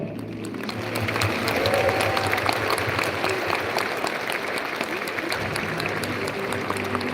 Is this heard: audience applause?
yes